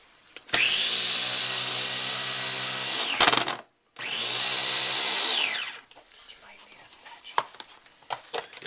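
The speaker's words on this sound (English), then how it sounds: "This is a Hamilton Beach food processor. It's called a Change-A-Bowl, because I'm grinding it right in a bowl" A Hamilton Beach Change-A-Bowl food processor grinds guacamole in two loud, steady whirring bursts of about three and two seconds, separated by a brief pause, followed by quieter clinks and handling sounds.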